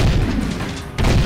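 In the video game Jak 2, a turret shot slams into its target with a loud, close, booming blast, followed after a short lull by another heavy impact.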